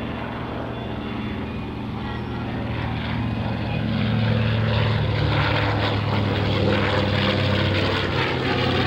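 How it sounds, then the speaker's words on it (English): B-25J Mitchell bomber, the Panchito, making a low pass at a World War II Weekend air show in 2004, its propeller engines droning loud and steady throughout and swelling slightly midway. "One more pass from Mr. Larry Kelly and Paul Newer"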